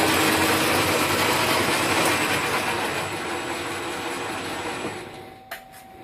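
An Ametek 30 motor running at full speed, about 650 RPM on roughly 19.6 volts, giving a loud, steady broadband whir that slowly eases in level, with a couple of faint clicks near the end.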